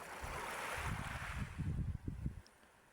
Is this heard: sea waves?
yes